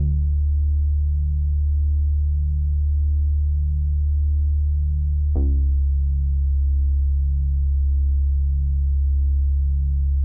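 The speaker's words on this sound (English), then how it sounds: "next thing we got is this bass from Analog Lab that sound like this" Analog Lab synth bass playing sustained low root notes an octave below piano chords, a steady droning tone that shifts to a new note about halfway through, loud and alone with no talking.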